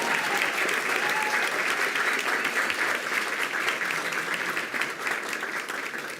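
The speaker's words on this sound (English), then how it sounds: "How about a round of applause for our students from Raul Gonzalez Elementary?" An audience applauds students from Raul Gonzalez Elementary at a school board meeting, a dense, steady wash of many hands clapping that holds for several seconds and eases slightly toward the end.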